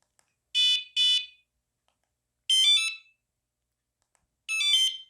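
A bicycle and motorcycle anti-theft alarm unit sounds sharp electronic beeps after pairing: a quick double beep, then two longer warbling chirps spaced about two seconds apart, close and clear in an otherwise silent room.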